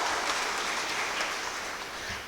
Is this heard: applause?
yes